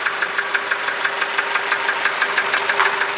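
Toyota Camry engine running rough with a steady rhythmic knocking, a fast regular tapping beat over a constant mid-pitched hum, heard close up.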